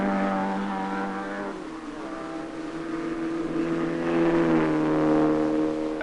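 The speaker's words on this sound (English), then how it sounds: "Jimmy Ray takes the Sunbeam safely round one of the countless turns" A Sunbeam rally car engine drones and strains up a winding mountain road in the 1956 Monte Carlo Rally, its pitch dipping as it shifts, then rising again as it pulls harder; no voices.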